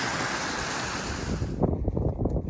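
Creek water tumbles over small cascades outdoors in Tasmania, a steady broadband rush near the microphone with some wind noise, shifting to lower splashing and gurgling toward the end.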